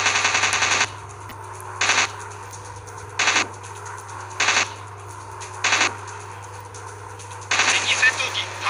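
Short bursts of WW2 warplane machine gun fire in a dogfight video game, about six separate rattling volleys spaced evenly, with the last one longer, over a steady low engine drone.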